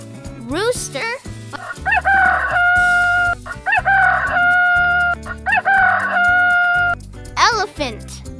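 A rooster crows three times in sustained, close cock-a-doodle-doo calls, loud and evenly spaced, with short voiced sounds at the start and end.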